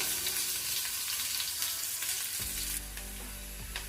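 Chopped green chillies and onion fry in a pan for paneer bhurji, a dense, close sizzle that drops to a quieter, lower crackle partway through.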